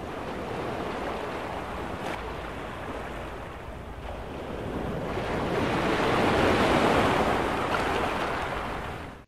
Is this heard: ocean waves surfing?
yes